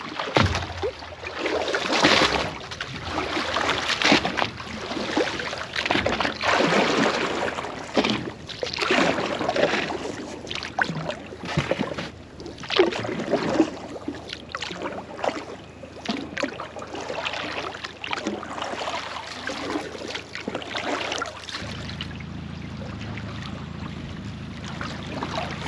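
A small boat pushes off from a mooring buoy, with soft water sloshing and irregular knocks and splashes near the hull. Wind adds a faint background, and the sound settles into a steady low murmur toward the end.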